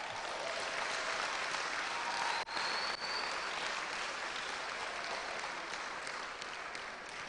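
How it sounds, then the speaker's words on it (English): Sustained audience applause at the grand finale of a national public speaking competition, steady dense clapping from a large crowd filling the hall for several seconds, with one brief dip midway. "Let's give our speakers another round of applause."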